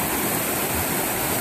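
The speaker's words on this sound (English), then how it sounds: "And this small brook is flowing pretty good," A small brook running high after a night of heavy rain, a dense, continuous rushing roar of water, close and steady throughout with no voices.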